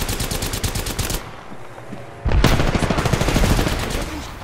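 Rapid automatic gunfire in the Apex Legends video game, loud and close, with a burst, a brief pause, then a longer sustained stream of shots, and a voice faintly under the fire.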